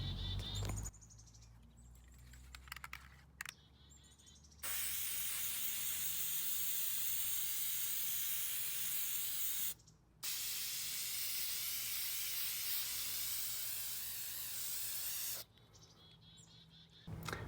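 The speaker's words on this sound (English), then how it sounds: "the point of spray painting both sides" Long continuous hissing bursts of an aerosol spray can, close and loud, with brief pauses between sprays and no talking.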